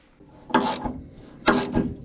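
A ratchet with a 1/4 inch hex socket tightening a 9/16 nut on a steering angle kit gives two close, sharp bursts of rapid clicking about a second apart.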